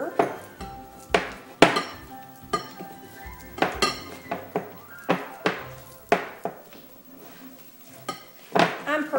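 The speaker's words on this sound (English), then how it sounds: "And let's give this a quick" A spoon stirs a peppermint patty mixture in a bowl, giving a run of quick, close clinks and knocks against the dish with an irregular rhythm, with no talking.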